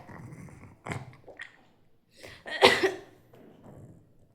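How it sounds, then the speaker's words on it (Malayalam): A few short coughs from a child, close by, coming in separate bursts with quiet gaps between, the last one the loudest. "ചുമച്ച് കാണിക്കുവാണോ എൻ്റെ കുഞ്ഞിന് ചുമയുണ്ടെന്ന് പറയാം"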